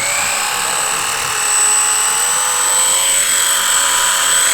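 A Blade 150 FX RTF small RC helicopter flies nearby with a high, steady rotor and motor whine that rises and falls slightly as it moves.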